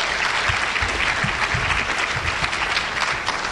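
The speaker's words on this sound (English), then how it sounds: "Please give them a round of applause" A large audience at a student academic excellence ceremony gives a sustained round of applause, with a full, even wash of clapping that stays steady throughout.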